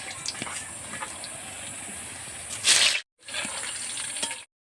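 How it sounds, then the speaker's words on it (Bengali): Potatoes frying in oil for biryani make a continuous close sizzle with a louder burst near the end, then a brief gap before the frying hiss resumes. "আলু আমি ভেজে নেব,"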